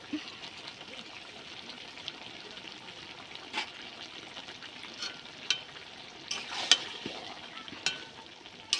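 Turmeric and chili powder sizzle and fry with spinach and prawns in a pan, a steady soft crackle broken by sharp stirring scrapes and clinks that grow busier toward the end.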